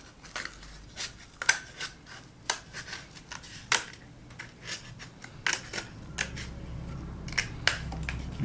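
Scissors snip around a crab shape cut from paper for a craft, making a series of close, quiet, irregular crisp snips and rustles with no talking.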